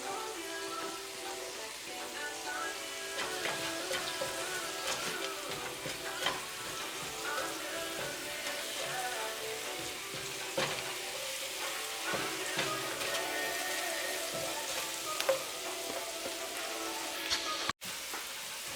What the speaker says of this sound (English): Saute the garlic until light brown or golden brown.